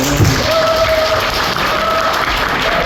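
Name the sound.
applause at a wedding service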